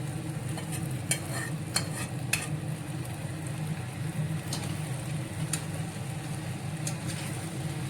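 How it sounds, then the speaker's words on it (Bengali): Cauliflower and potatoes fry in a spiced masala, sizzling steadily while a spoon scrapes and stirs the pan with a few sharp clinks, close and continuous. "এইবার আমি ফুলকপি আর এটা দিয়ে দেবো, আলুটা। ফুলকপি আলুগুলো মিক্সড করে দেবো এর সঙ্গে।"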